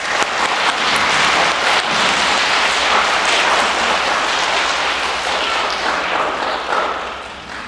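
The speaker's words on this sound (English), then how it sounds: "Boys and girls, please give your moms and dads a big round of applause." A school gym audience at a Catholic school's All Saints Day program breaks into loud, sustained applause. Dense, rain-like clapping keeps going without a break and barely fades toward the end.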